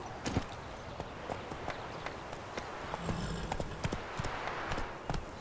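A horse gallops up in The Witcher 3 video game, with quick, rhythmic hoof clip-clops on the ground growing close and steady over several seconds.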